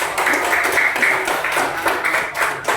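A group in a coding and AI training class claps together, a brisk, steady patter of hands lasting a few seconds.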